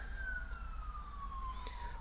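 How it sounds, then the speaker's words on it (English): An emergency vehicle siren wails outside with a steady descending tone, moderately distant and continuous beneath a low background hum. "There's sirens going on outside."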